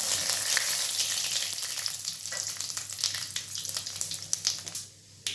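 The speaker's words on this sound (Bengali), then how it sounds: "কড়াই তেল গরম হওয়ার পর আমি তেজপাতা আর 5 ফোড়ন দিয়ে দিলাম।" Bay leaf and panch phoron sizzling in hot mustard oil in a wok, a bright crackling sizzle with popping that eases off and briefly drops out near the end.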